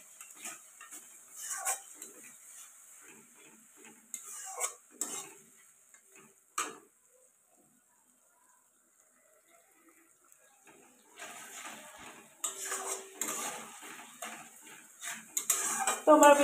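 Chicken being sautéed with ginger garlic paste in a pan for a chicken and potato curry, with bursts of spatula scraping and stirring against the metal pan over a soft sizzle, pausing midway, then busier stirring and clatter toward the end.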